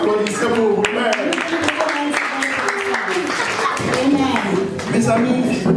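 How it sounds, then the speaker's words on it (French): A church congregation claps and applauds during a French-language prayer service, the clapping irregular and sustained under loud voices, with people speaking and calling out throughout. "Applaudissez pour vous-même."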